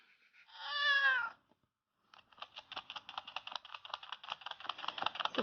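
One cat gives a single clear, drawn-out meow close to the microphone. After a short silence, a rapid run of clicking, tapping sounds follows.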